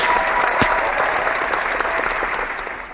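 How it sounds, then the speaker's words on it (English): Sound-effect applause, a dense crowd clapping steadily and fairly loud for three seconds, tapering slightly at the end. "Is that how you guys have done the clapping before?"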